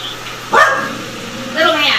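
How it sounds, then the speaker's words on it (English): A dog barks and yips in a house during a police use-of-force encounter in Bakersfield, two short loud bursts with voices and room noise around them. "It's my daughter's dog."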